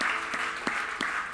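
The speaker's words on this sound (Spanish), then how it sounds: "Dele el mejor aplauso que pueda a Dios." Church congregation clapping for God in unison at the close of a Spanish-language sermon, a dense wash of hand claps with a few sharper accents, sustained and close throughout.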